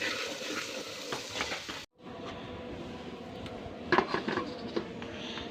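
Raw banana pieces fry in a pan on a clay stove, giving a steady soft sizzle with faint stirring and a few utensil clinks, broken by one brief pause.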